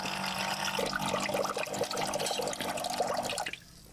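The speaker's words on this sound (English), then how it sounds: "I'm actually gonna drain some of that water inside." Pasta cooking water being drained, a steady splashing and gurgling pour that runs for about three and a half seconds before cutting off into near silence.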